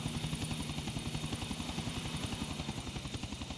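Helicopter in the video game GTA Vice City, a steady rapid rotor chop with a constant engine drone, evenly pulsing and moderately quiet throughout.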